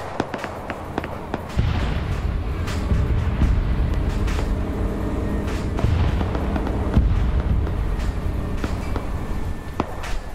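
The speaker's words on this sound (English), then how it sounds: "Wow, AD literally got blown up right there" Explosions and gunfire in a WW2 video game battle where a flak panzer is hit by a rocket and blown up: a dense run of loud booms and sharp cracks, with a heavy blast rumble continuing throughout.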